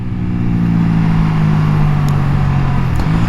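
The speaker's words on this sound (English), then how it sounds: "I want to have more room so I can actually shift the crap out of this bike" Triumph Daytona 660 motorcycle engine droning steadily at high revs under load, loud and close throughout, with a brief pitch dip near the end like a quick upshift.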